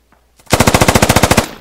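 A burst of automatic gunfire from the military shooter game Insurgency, about ten rapid, loud, evenly spaced shots in roughly one second, with no other sound around it.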